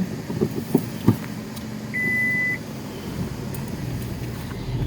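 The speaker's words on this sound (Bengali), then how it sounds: "ওই পাশে যাচ্ছে গাড়ি" A car travels a rough mountain road under repair in Arunachal Pradesh's Dibang Valley, its engine and cabin rumbling steadily with a few bumps and a brief electronic beep partway through.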